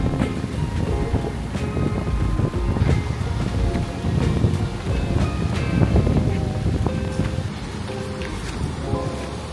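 Steady wash of sea surf at a hotel beach in Cancun, Mexico, heard with wind buffeting the microphone and a faint background murmur throughout.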